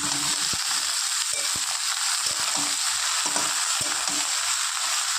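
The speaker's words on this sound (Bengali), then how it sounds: "একসাথে বেগুন আর পেঁয়াজ একটু হালকা ভাজা ভাজা করে নেব।" Chopped eggplant and onion fry with nigella seeds in a pan, making a dense, steady, loud sizzle. Frequent short stirring taps and scrapes cut through it, with no talking.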